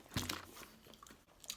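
A bite into a crunchy snack from a tasting box, with a sharp crunch near the start followed by a few softer chewing crackles, close and fairly quiet.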